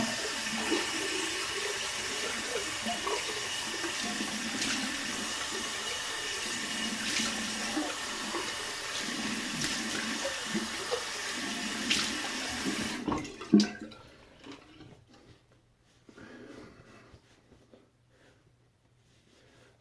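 A bathroom tap runs cold water fast and steadily for about thirteen seconds, a loud, even splashing rush, then cuts off abruptly, leaving faint drips and quiet room noise.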